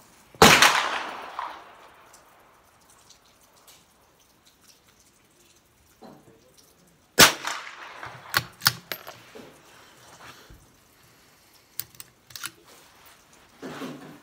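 Savage MK2 TR rifle being fired at a target range with Blazer ammunition: a sharp close shot, a quiet gap, then another shot followed by bolt clicks, handling clatter and a few more sharp reports.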